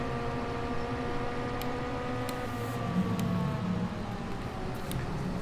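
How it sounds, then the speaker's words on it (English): The header of a combine harvester in Farming Simulator 17 runs with a quiet, steady mechanical drone, holding several sustained tones over a soft noisy bed and a few faint ticks, without any speech. "So that is purely the noise of the header."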